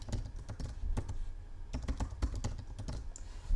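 Rapid, close clicking of keys on a computer keyboard, in bursts of typing with short pauses between.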